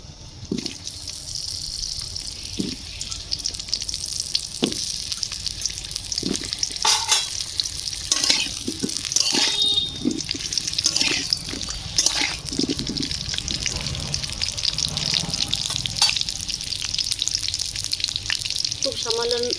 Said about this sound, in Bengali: কড়াতে সর্ষে তেল দিয়ে দিচ্ছি আলু ভাজবো আলু দিয়ে দেবো